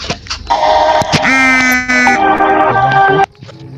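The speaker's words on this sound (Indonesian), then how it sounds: "Itu suara HP-nya Mega mungkin" A mobile phone rings loudly nearby during a horror podcast, playing a bright electronic tone pattern that changes pitch for about three seconds and then cuts off abruptly, with brief talk around it.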